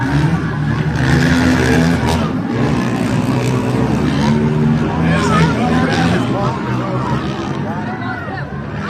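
Monster trucks race at an outdoor show in Bowling Green, Ohio, their engines roaring steadily and loudly at a distance under continuous crowd babble.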